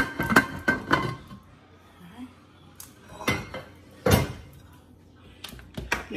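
Shrimp and sausage spaghetti is plated in a home kitchen, with clinks and scrapes of utensils against dishes in a few separate bursts and quiet pauses between them.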